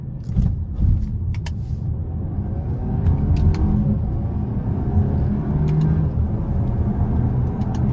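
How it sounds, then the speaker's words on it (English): A 2022 Volkswagen Arteon's 300 hp 2.0-liter turbo four-cylinder drones and rumbles steadily as it accelerates, with a few brief sharp turbo blow-off hissing bursts scattered through, close and fairly loud. "And the turbo blow off sounds crazy."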